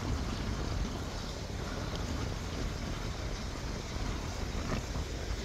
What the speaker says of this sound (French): probablement vous entendez plus de vent que de vagues